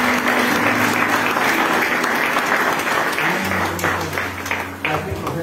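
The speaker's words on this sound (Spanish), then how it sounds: "Un fuerte aplauso a nuestro Dios." Church congregation clapping loudly and continuously in a strong round of applause, with some voices faintly mixed in as the clapping thins toward the end.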